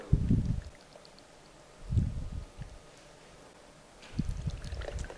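About 50 to 60 grams of water is poured into a jar of herring in sunflower oil, heard as three short, low splashing pours separated by quiet pauses.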